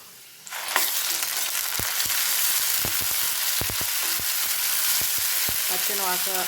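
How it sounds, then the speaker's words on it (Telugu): Onions with ginger garlic paste fry in a pan for gongura chicken, a loud dense sizzle that starts suddenly and continues steadily, punctuated by sharp clicks and scrapes of a spoon stirring close by. "దీన్ని కొంచెం వేగనిద్దాము."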